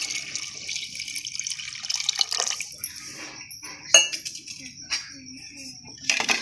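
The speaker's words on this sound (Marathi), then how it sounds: "आपण गरम करायला ठेवलेलं पाणी त्याच्यातून एक तांब्यांवरी थोडंसं ह्याच्यात ओतून घ्यायचं आहे" Hot water from a heated pot poured by the mugful into a cooking pan of biryani, a light splashing pour with a few clinks of metal vessels, close and fairly quiet, no talking.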